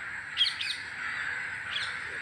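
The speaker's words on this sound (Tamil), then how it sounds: "பாருங்கள் எவ்வளோ காக்கா உட்காந்துருக்குது" A few crows perched on a wire give short harsh caws, two close together and another a moment later, over a steady background hiss.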